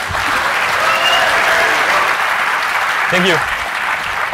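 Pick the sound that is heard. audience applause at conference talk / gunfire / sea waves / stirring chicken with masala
audience applause at conference talk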